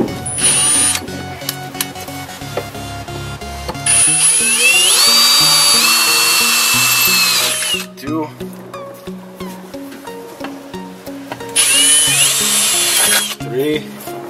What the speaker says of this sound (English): I'm gonna drill the pilot holes.